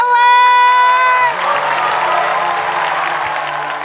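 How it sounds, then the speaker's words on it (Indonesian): Audience on a televised talent show breaks into loud applause and cheering, a dense crowd roar that follows a sustained sung or tonal note and continues steadily to the end, with some shouting voices. "Tepuk tangan untuk Ivan Gunawan"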